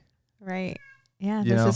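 A cat outside a door yowls in two drawn-out, loud meows separated by a short pause.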